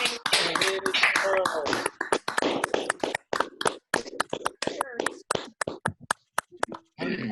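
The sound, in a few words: Zoom meeting applause welcoming a new member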